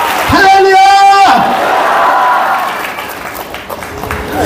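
Church congregation clapping and cheering during a Hindi sermon, a loud sustained wash of applause with shouts after a preacher's sung call, filling the space for several seconds.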